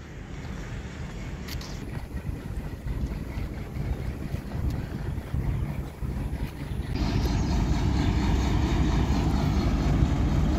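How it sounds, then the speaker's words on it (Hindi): The Millat Express passenger train, hauled by locomotive 8316, departs Lalamusa station in Pakistan for Karachi. A steady low rumble grows louder partway through, with wind buffeting the microphone throughout. "कराची के लिए मिलत एक्सप्रेस रवाना हो रही है"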